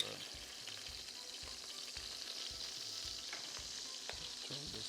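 Garlic and minced ginger frying in melted fat in a pot for Trinidadian stew fish, a steady close sizzle with repeated scraping stir strokes and no talking.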